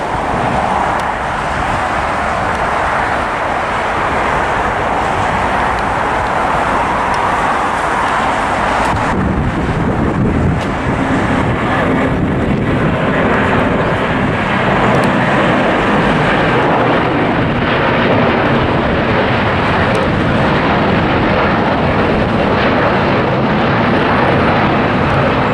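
A China Eastern airliner taking off at LAX, a loud, sustained jet engine roar that swells and stays heavy across the whole span, with wind buffeting the microphone.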